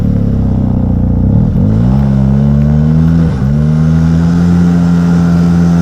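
A snowmobile engine revs loud and steady, its pitch wavering and climbing as the sled spins and then gets going on a steep, rutted hillside, close and continuous with no talk.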